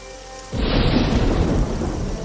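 A thunderstorm with heavy rain: a steady wash of rain hiss is joined by a deep, loud rumble of thunder that swells and rolls on, with no voices.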